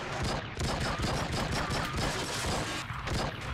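Rapid gunfire in a video game sniper battle in an open-world police game, with a loud continuous barrage of overlapping shots and bursts close up throughout.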